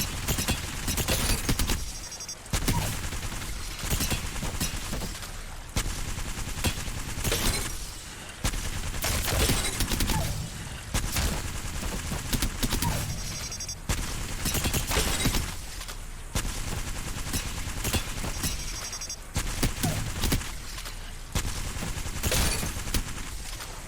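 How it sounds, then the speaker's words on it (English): Rapid, unbroken automatic gunfire from the L-STAR energy weapon in the Apex Legends video game, firing continuously in long loud bursts with only brief gaps, close and dominant with no talking. "So if you have 2 L stars, you can literally have an almost never-ending stream of bullets"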